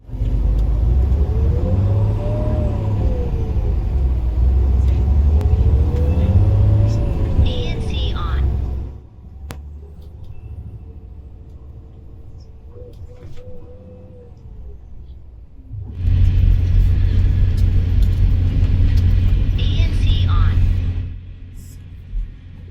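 Inside a coach and a train, a heavy low rumble of engine and rolling noise runs loud, drops to a muffled hush under simulated noise reduction, then returns at full strength, with a voice speaking over parts of it.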